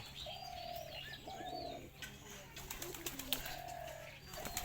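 A pair of pigeons coo in repeated low, drawn-out phrases, with some chirping and light rustling mixed in, close and fairly quiet.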